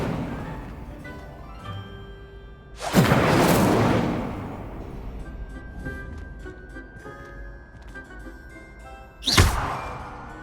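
Incendio fire spell cast twice in Hogwarts Legacy, each a loud whooshing burst of flame with a thudding hit, the first longer and the second shorter, separated by quieter ambient game sound.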